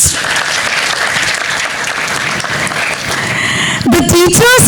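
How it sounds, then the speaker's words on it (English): Applause for the participants and school coordinators of an interschool sustainable development competition, a steady crowd clapping throughout, with a voice breaking in near the end. "I would like to give all the participants and the school coordinators a huge, huge round of applause"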